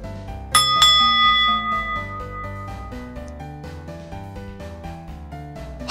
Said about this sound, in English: Hey Clem, there's a bell here with a message next to it. Ring for service. Can I ring it